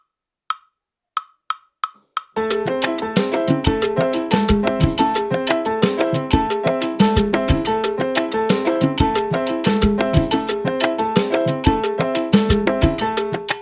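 Four soft clicks count off, then a piano plays a brisk, repeating syncopated montuno pattern with both hands, steady and close.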